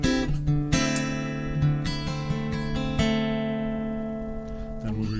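Acoustic guitar plays a song's chorus close up, plucking clear notes over a droning D bass. Strums and picked notes ring out in a steady rhythm with no talk.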